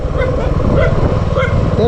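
Dogs in the Garo Hills of Meghalaya bark intermittently amid a busy, noisy background, with voices mixed in.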